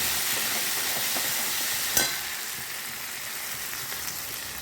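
A paste of ground cashew, chilli and melon seeds with salt stir-fries steadily for chicken rezala, a continuous broadband sizzle with one sharp clink near the middle, close and alone with no talk.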